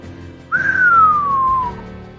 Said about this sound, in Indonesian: Suara siulan mengumandang aneh dari sela bibirnya.